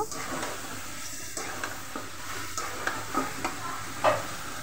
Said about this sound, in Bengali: এখন আমি নেড়ে চেড়ে নিব সবজিগুলো।